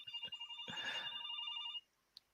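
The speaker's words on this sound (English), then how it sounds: "sorry, my phone is going off" A phone rings with a bright, repeating electronic ringtone, a run of quick pulsing tones that cuts off abruptly, followed by a single faint click, no talking.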